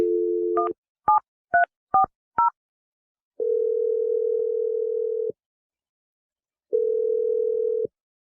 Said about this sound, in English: I'm going to dial Teresa's number if you're ready.